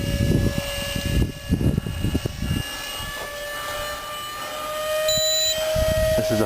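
A Nitro Planes F15 camo model jet flies overhead, its high, whining engine tone sliding in pitch as it passes, with gusty wind buffeting underneath and the sound swelling louder toward the end.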